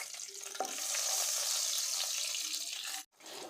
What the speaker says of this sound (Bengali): এটাকে আমি একটু লাল লাল করে ভেজে নেব। আর দিয়ে দেব গোটা কাঁচা লঙ্কা।